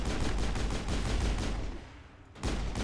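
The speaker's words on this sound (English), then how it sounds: "I'm shooting you in the toe." Rapid automatic gunfire from the Mass Effect video game, a fast, steady stream of close, loud shots that pauses briefly and then resumes with another burst.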